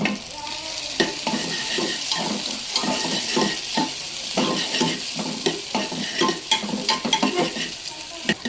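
Crushed ginger and onions sizzle in a hot pan for ghee rice while a utensil stirs them, producing a continuous close frying hiss broken by repeated scraping strokes.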